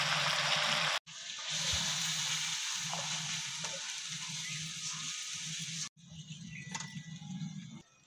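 Onions frying in a kadai, a steady close sizzle with brief breaks as the pan is stirred, no talk over it.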